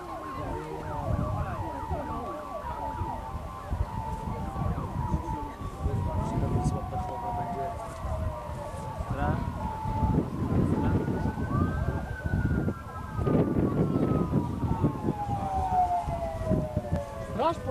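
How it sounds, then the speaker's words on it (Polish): Two ambulance sirens wail with rising and falling tones over street noise and a crowd at the 2001 Rajd Wisły rally, with people talking nearby throughout. "Chyba dwie karetki,"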